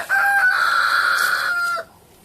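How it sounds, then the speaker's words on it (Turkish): A rooster crows loudly and close by in a Turkish backyard apiary in February, one long cock-a-doodle-doo call that cuts off sharply, then quiet. "Horozlar beni hiç bırakmaz."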